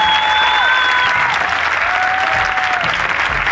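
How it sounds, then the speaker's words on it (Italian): An audience at a comedy show applauds a new father with loud, steady, sustained clapping, and high whistles ring out over the first half. "facci un applauso, è appena diventato papà"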